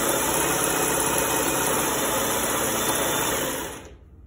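Sewing machine stitching cloth while attaching cord piping, a steady close mechanical whir running continuously for nearly four seconds before winding down to silence.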